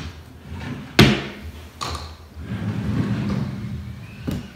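A dresser drawer of baby clothes being handled at home, a sharp knock as it shifts, a scraping slide, then softer rustling and another small knock.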